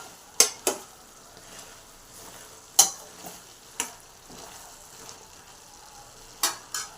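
Tamarind pulp and tomato mixture stirred in a sizzling pan for tomato pachadi, with a soft steady sizzle beneath several sharp spoon scrapes and taps against the pan, spaced irregularly.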